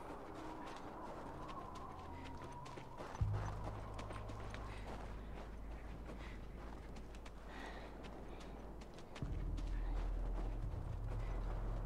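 Horse hooves clip-clopping in The Last of Us video game, a faint steady trotting rhythm with low rumbling game ambience and occasional bird-like calls.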